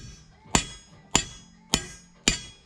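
Four evenly spaced metallic hammer blows drive a pin into a hole on a hay trailer, each strike sharp and close with a short ringing decay, no talk between them.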